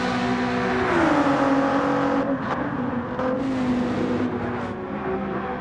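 Gran Turismo 7 racing cars roar at high revs at Fuji, engine pitch climbing and shifting with quick upshifts, steady and loud throughout with no talking.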